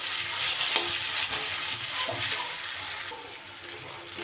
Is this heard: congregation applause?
no